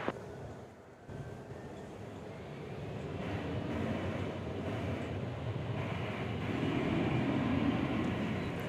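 A 14-year-old Boeing 747 jumbo jet arrives at DFW Airport from Anchorage, a broad, steady roar of jet noise that slowly grows louder and fuller over several seconds, with no talk.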